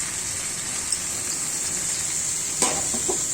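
Boiled tender vegetable stems are tipped into a pan with rui fish, giving a steady bright sizzle that flares up sharply when they go in near the end.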